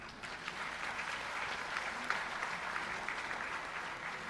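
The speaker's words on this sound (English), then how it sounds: "Well, I think that, sir, deserves a double round of applause." Sustained audience applause at a felicitation ceremony honouring completed school toilet construction, steady dense clapping from a large crowd throughout with no break.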